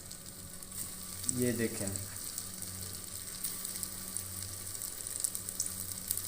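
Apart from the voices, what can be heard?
crispy mixed vegetable kebabs frying in a pan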